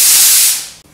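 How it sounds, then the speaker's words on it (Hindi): A kitchen pressure cooker on a gas stove releases a loud, steady hiss of steam that fades out after about half a second, followed by a brief quiet. "हमारे कुकर की सीटी हो चुकी है"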